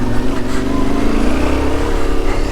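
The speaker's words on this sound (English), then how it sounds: "as you can tell, it still runs absolutely fine" A Yamaha Tenere 700 motorcycle engine runs steadily at idle after the bike was dropped in a puddle, a continuous close, loud throbbing hum with a faint rising tone, no talk over it.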